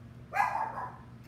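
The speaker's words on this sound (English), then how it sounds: "those are my dogs. Hey, no barking." A single short dog bark sounds close by, clear against a quiet background hum.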